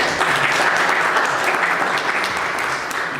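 Audience applause for a speaker at a Peruvian Supreme Court event, dense, steady clapping from a crowd that holds at an even, loud level throughout with no voices over it.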